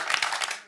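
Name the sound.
audience applauding the warm-up host Thierry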